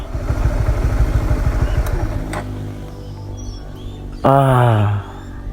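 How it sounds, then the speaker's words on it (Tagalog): A motorcycle engine rumbles close by on a quiet road on Negros Island on a rainy day, with a rough, steady drone, then fades, followed by a short loud harmonic burst like a horn or revving. "Tahimik ng lugar dito except sa mga motor na dumadaan."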